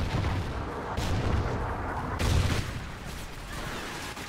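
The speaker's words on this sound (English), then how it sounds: "Friendly Trinity rocket inbound." Trinity rocket strike in the multiplayer shooter Call of Duty Ghosts on the Octane map: a few loud, near explosive blasts with rushing, rumbling tails over steady battle noise, without talk.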